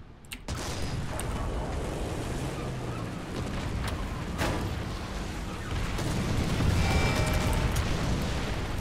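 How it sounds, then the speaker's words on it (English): Tank cannon fire booms across a War Thunder battlefield as enemy tanks shoot at the player's spawn, with sharp bursts over a constant rumbling engine drone and distant echoing thuds. "They're both shooting at me at spawn."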